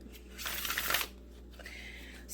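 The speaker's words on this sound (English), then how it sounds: "let's get a couple shuffles in" An oracle card deck being riffled in a quick burst of crisp fluttering card slaps, followed by a softer brief rustle, close and clear in a quiet room.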